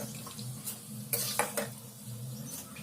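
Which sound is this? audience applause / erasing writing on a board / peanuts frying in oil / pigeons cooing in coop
peanuts frying in oil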